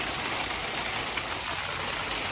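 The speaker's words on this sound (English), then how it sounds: "Guess what? Hailstorm." A hailstorm pounds a village in a steady, dense wash of hail and rain hitting surfaces, loud and continuous throughout with no voices.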